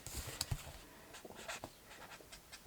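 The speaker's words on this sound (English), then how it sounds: "What I'm going to do on the back of my notes, I'm going to write down" Pen writing on the back of paper notes, faint scratchy strokes in short irregular bursts, close and quiet, with no talk.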